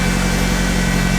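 A turbocharged Honda Integra idles close by with a steady, even hum that holds at one loudness for the whole moment, with no voices.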